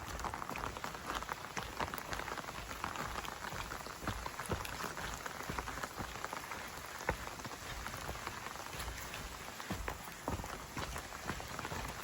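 Steady rain falls on a woodland hiking trail on the Appalachian Trail, a dense, even patter of drops with occasional closer taps, heard alone at a soft, constant level.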